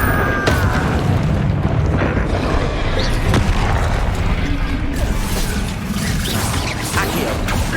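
An Incendio fire spell is cast in Hogwarts Legacy amid a dense, loud battle, with whooshing flames, rumbling booms and crashes running continuously, and a voice calling out over the din.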